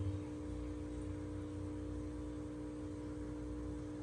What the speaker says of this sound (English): That hum is the pump of the infinity tank we were working on behind us.